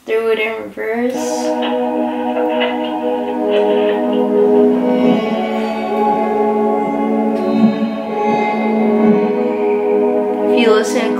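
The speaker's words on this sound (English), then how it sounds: "If you listen closely, it low-key sounds like birds chirping, but it's the guitar strings, and I threw a little bit of ping pong delay on there" Reversed guitar strings run through ping pong delay, forming a sustained shimmering bed of high, chirping, birdlike tones that bounce back and forth for about eleven seconds, fairly loud and with no one talking.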